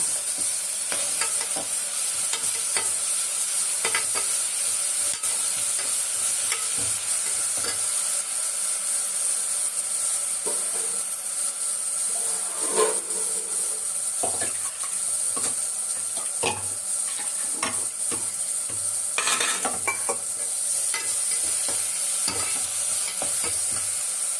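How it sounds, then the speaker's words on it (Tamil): Ground fennel, ginger and garlic masala sizzling and frying steadily in a pan for biryani, with repeated stirring scrapes and light utensil clinks throughout, fairly close and continuous. "அப்போ தான் அந்த பச்சை வாசனை போகிற வரைக்கும் வதக்கணும் இல்லைங்களா."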